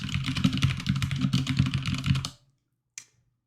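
Rapid keystrokes on a computer keyboard type out a name, a close, dense run of clicks lasting about two seconds, then silence broken by one sharp final key tap.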